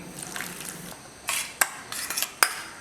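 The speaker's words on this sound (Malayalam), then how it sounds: "മിക്സ് ചെയ്തിട്ട് റവ മാറ്റി വെക്കുന്നുണ്ട്" Semolina is being stirred with a little water in a bowl: a soft scraping stir, then several sharp spoon clinks against the bowl's side in quick, uneven succession.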